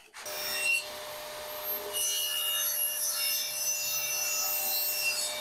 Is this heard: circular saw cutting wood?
yes